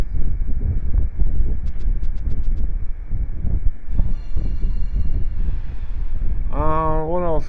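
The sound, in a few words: giant train at Mount Hand in video game Thousand Arms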